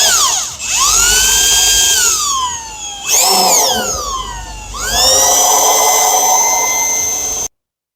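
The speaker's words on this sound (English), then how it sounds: "let's get our drill gun, and then we'll tell them what size drill bit we go through it" A power drill whines loudly in three bursts drilling screw holes for rear sponsons on a Yamaha SuperJet watercraft, pitch sweeping up as it spins and dropping as it slows, then cutting off abruptly.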